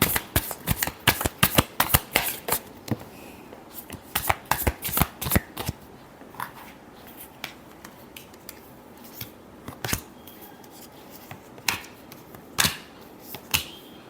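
Tarot cards being shuffled by hand in repeated riffling bursts, crisp and close, with quick flutters clustered early and shorter isolated snaps spaced out toward the end, no talk.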